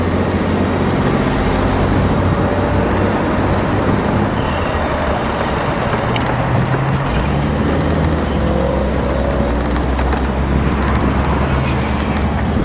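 A silver 1934 Hudson Terraplane convertible rolls through traffic, its engine and road noise a steady, loud drone throughout, with faint voices in the background.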